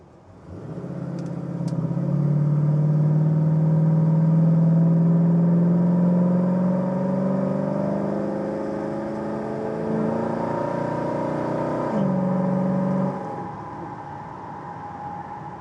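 A 1969 Chevrolet Impala SS cruising steadily near 70 mph with a smooth engine hum and road rumble, engine note shifting slightly as it slows, close and continuous with no talking.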